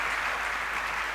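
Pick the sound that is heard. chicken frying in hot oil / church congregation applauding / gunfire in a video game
church congregation applauding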